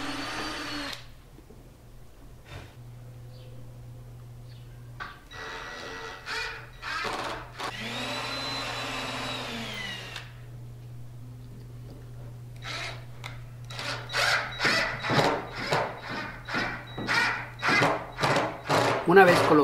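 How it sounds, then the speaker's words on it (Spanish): A power drill drives screws into wooden supports for a removable router table, with bursts of rising and falling motor whine between quiet gaps, ending in a run of rapid stuttering pulses. "yo lo que voy a hacer es que le voy a poner tornillos que hagan más fuerte el"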